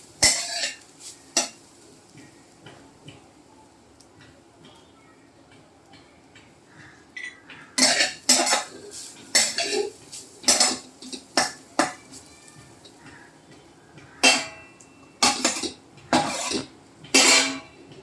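A spoon stirs grated coconut in ghee in a pan, giving scattered metallic scrapes and clinks that start sparse, then come as irregular close clusters of sharp taps and scrapes.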